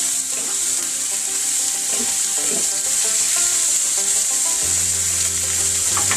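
Chicken adobo fries in a pan with a constant bright sizzle while a utensil stirs through it, producing scattered scraping knocks over the steady hiss; no one speaks.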